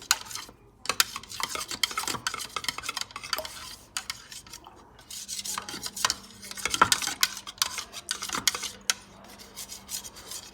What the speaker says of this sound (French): Il faut vraiment bien mélanger.